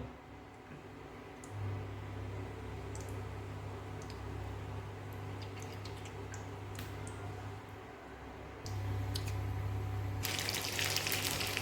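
Cooking oil heating in a kadai on a stove for frying chicken: faint, quiet crackling and soft ticking over a low steady hum, then a brief brighter sizzle near the end.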